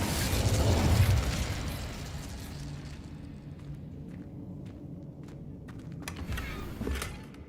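A fire spell, Incendio, is cast in the Hogwarts Legacy video game, bursting out loud and low at the start, then settling into a crackling rumble with scattered sharp pops toward the end.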